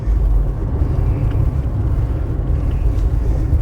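Morris Marina with a fairly sensible standard exhaust, driving at about 3,000 rpm: a steady, fairly quiet low engine drone with road and wind rumble, continuous and unbroken, no talking.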